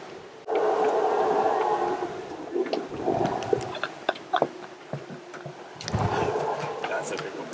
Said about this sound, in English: I can't believe we're listening to monkeys next to our boat.